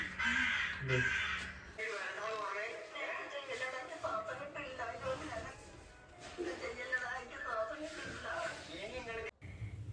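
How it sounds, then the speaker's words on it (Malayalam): House crows caw repeatedly at close range, harsh calls layered with background chatter and household noise. "വീട്ടിലെ കാക്ക ഇങ്ങോട്ട് വരുന്നത്"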